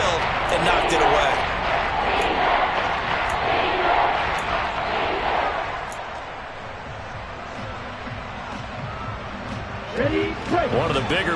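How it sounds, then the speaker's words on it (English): Stadium crowd in the Madden football video game swells into a broad, steady roar as a big third down approaches, loud throughout and easing slightly near the end, with a few sharp thuds on top. "the crowd getting into it as we come up on a big 3rd down"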